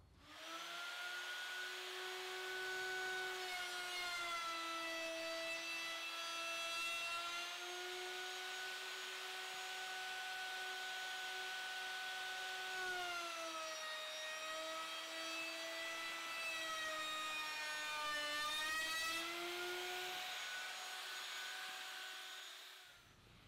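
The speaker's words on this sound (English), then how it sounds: "I'll try to clean up that burn mark by running the router over the profile one last time" A router fitted with a thumbnail edge bit runs a final pass over the wooden table edge profile, giving a loud, continuous high whine that holds steady for the whole stretch and dips slightly in pitch under load.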